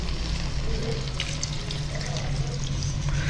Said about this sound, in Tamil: அரை கப் அளவுக்கு தண்ணி சேர்க்கலாம்.